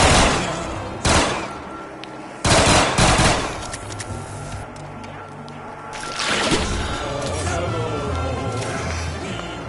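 Bursts of gunfire from the Knight gun in the zombie video game Reminiscence Zombies, several loud rapid volleys in the first few seconds, followed by a softer mix of game noise and a voice talking.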